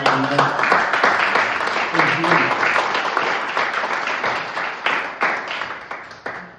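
A church congregation applauds, a loud dense burst of clapping that holds steady and slowly fades toward the end, with a few voices underneath.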